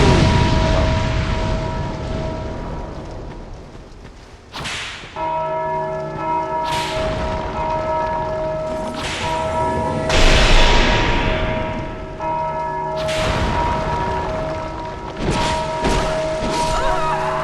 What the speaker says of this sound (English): Ringing bells in the cemetery and all.